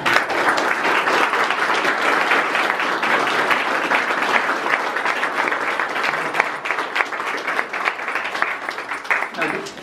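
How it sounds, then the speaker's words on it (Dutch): Loud, dense applause from an audience at a photo gallery opening in The Hague, continuous clapping close by with some voices mixed in throughout. "Wat ik eerder graag een hartelijk applaus voor Bas en Nora"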